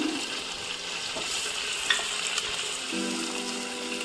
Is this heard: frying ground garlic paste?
yes